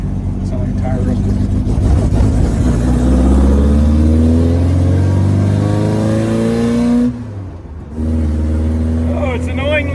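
A loud car with a newly installed motor accelerates hard from a traffic light, a rising roar that fills the first seven seconds, briefly cuts out, then picks up again as a voice speaks.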